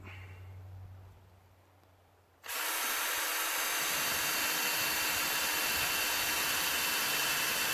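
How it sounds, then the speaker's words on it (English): A power drill starts abruptly after a quiet moment and then whines loud and steady as it bores into wood for a snowman craft project. "Drilled my hole, stuck the drill in there"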